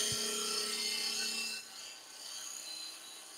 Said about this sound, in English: Now I can get the parting tool in quite close.